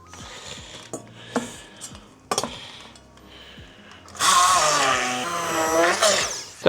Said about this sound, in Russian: и пропущу через блендер для однородной массы.